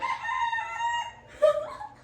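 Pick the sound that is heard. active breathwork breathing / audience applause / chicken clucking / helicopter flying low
chicken clucking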